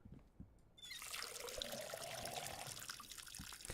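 Seeds are watered in a video game: after a quiet moment, a steady trickling pour of water starts and runs on for about three seconds, close and fairly soft.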